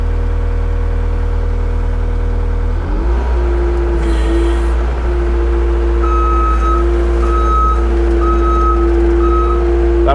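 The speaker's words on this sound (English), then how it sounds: "That reversing alarm would have to go." A truck's reversing alarm gives a steady run of evenly spaced beeps over a loud, continuous idling engine rumble, close by and prominent.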